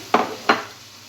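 Curry spices being stirred in a pan for a cheap Turkish pizza topping, heard as two short, close scraping strokes of a utensil against the pan, followed by quiet.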